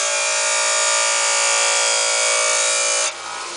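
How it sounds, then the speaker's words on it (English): A metal grinder grinds pieces off a wooden bread box during repair, giving a loud, steady high-pitched whine for about three seconds before it drops off abruptly into a quieter hum. "what we're going to do is just use a metal grinder"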